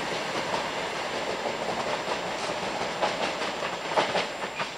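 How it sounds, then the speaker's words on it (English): A British Rail Class 318 electric train rolls past at Jordanhill station, steady rumble with rhythmic clickety-clack of wheels over rail joints, close and continuous. "It's 318258 that's on the back."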